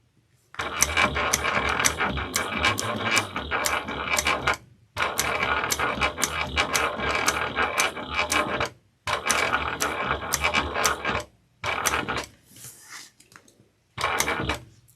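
Sewing machine stitching a leather wallet runs in four bursts of rapid mechanical clatter, each several seconds long, separated by short pauses, with a brief quieter stretch near the end and no speech.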